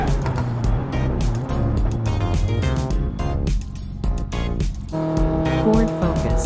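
A race car in the BeamNG.drive driving simulator screeches as it brakes hard, with loud sustained tire squeal and skidding layered over a dense engine roar. The sound stays continuous and intense throughout.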